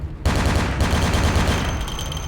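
Sustained barrage of enemy artillery and gunfire in Vampire: Bloodlines, a dense, loud rumble of overlapping blasts that kicks in after a short quiet start and continues without pause.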